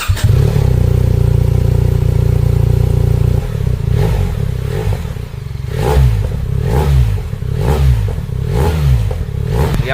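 A BMW GSA1300 motorcycle fitted with an Akrapovič exhaust runs close up in dynamic mode, a loud steady low engine drone followed by several sharp throttle blips that rise and fall in quick succession.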